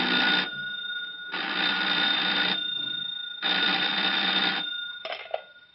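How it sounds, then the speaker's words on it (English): An old-style telephone bell rings insistently in a sheriff's office in a radio drama, with three long bursts separated by pauses and a short fourth ring cut off at the end. "the telephone in the office of Sheriff Durley in Ventura rang an insistent summons"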